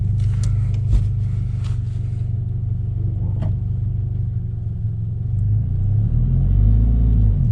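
A manual-transmission Subaru FRS heard from inside as the driver gives it more gas, a low engine rumble that swells and rises in pitch toward the end, with a few clicks early on and no talking.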